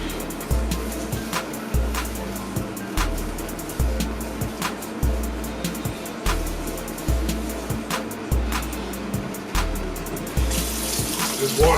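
Water runs steadily from a tap while hands are washed, close and fairly loud, with a regular pulsing rumble underneath.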